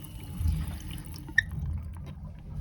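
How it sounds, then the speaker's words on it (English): Water leaks and drips from an old faucet in the head of a 1984 Chris-Craft Catalina 381 boat, a low trickling wash with one sharp splash midway, close and fairly quiet. "when you turn the water on, it leaks. So you can see the water starting to come out"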